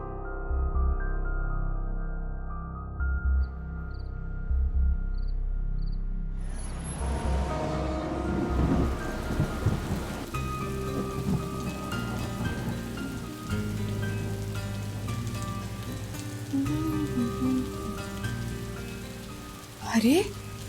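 A sudden heavy downpour bursts in after a quiet, humming stretch and settles into a dense, steady roar of rain on surfaces, with occasional louder thumps near the end.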